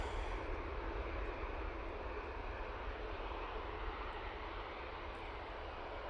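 A TUI airliner taking off from Manchester Airport, bound for Malaga, produces a steady, loud, broadband jet roar that holds evenly throughout, with no voices over it.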